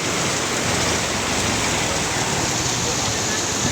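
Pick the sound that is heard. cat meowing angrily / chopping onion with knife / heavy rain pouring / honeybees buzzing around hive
heavy rain pouring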